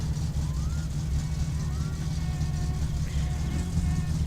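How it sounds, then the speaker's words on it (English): A car engine idles steadily in the game My Summer Car, a continuous low rumble with a faint whine riding on top throughout. "The thing idles perfectly fine."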